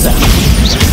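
A Bombarda spell blast in Hogwarts Legacy on Xbox Series S, a loud, dense burst of smashing, booming impact that fills the whole moment up close.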